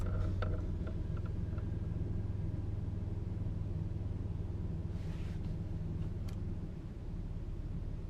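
A car engine idles steadily after being started, a low, even rumble that runs throughout with faint mechanical ticks and no talk.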